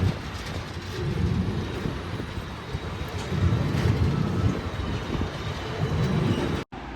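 A passing train rolls across the Krishna barrage beside a stopped express, giving a continuous heavy rumble with rhythmic swells of wheel noise that stays loud and close before it cuts off abruptly near the end.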